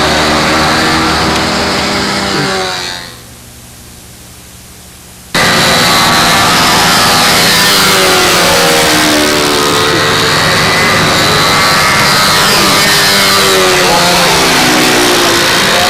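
Four-stroke engine of a scale model Spitfire plane, a loud continuous buzzing drone that drops sharply for a couple of seconds and then surges back to full power, close by without speech.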